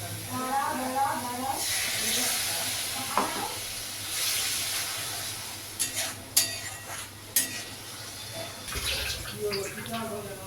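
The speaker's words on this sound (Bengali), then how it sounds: "কষতে কষতে প্রায় কষা হয়ে আসছে। এর মধ্যে মশলা ধোয়া জলটা আমি দিয়ে দেব।" Spices sizzle and crackle steadily in a hot pan while cooking chicken cutlet curry, with occasional stirring scrapes and brief louder pops, under a low background hum.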